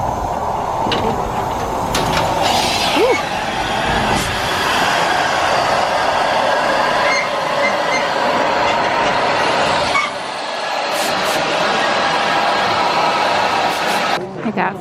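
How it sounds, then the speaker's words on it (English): A railway locomotive, just turned around, backs slowly onto the end of a passenger train, giving steady rumbling rail noise with metallic squeals and clanks, heard from nearby under continuous crowd chatter. "They spun the engine around and now they're backing it into the back of the train"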